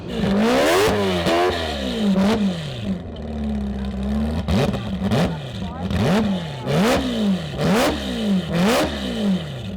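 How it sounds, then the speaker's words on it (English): A loud four-rotor rotary engine in an AWD Mazda RX-7 revs again and again, its pitch rising and falling in sharp, rhythmic blips over a steady rumbling idle. "That's what a 2+2 four rotor sounds like."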